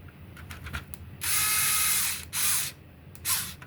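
A screwdriver runs small screws into a Nintendo GameCube DOL-001 plastic case, giving a few bursts of whirring ratchet-like buzz, one long and two short, close up and with no talking.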